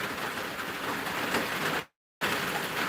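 Steady rain falls outdoors in a continuous soft hiss, cut briefly by a moment of silence before resuming.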